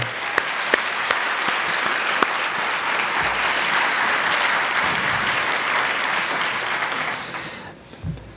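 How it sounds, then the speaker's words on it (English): An audience at a university state of the university address claps for a student jazz group, a dense, steady wave of applause lasting about seven seconds before fading out. "Let's give another round of applause for the Student Jazz Group."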